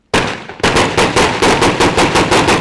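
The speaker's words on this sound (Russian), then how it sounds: "Увидев силовиков, диверсанты открывают стрельбу." Gunfire rings out during a special forces training exercise in Sverdlovsk Oblast: one sharp shot, then a loud, rapid automatic burst of about a dozen evenly spaced rounds, close and echoing.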